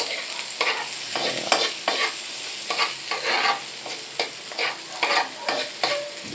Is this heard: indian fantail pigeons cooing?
no